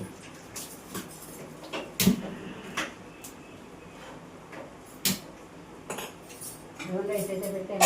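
Pots and dishes clatter while brown rice is put on to cook, giving scattered metallic clinks and knocks of varying loudness, close and mostly sparse, with a voice starting near the end.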